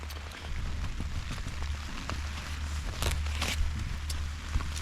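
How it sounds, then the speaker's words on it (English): Rain pouring outside on a wet morning on the Isle of Kerrera: steady dense patter with occasional louder drips and splashes over a low constant rumble, heard close and continuous. "it's still pouring a rain outside."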